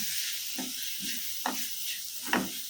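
Ground masala sizzling in a pan over a low flame as it is stirred, a steady soft hiss with a few scraping stirs and small bursts.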